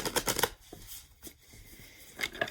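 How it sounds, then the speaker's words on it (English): Quick riffling bursts of tarot cards being shuffled, close and crisp, with a short pause between flurries. "let's do some cleansing shuffles, cleansing breaths for you guys"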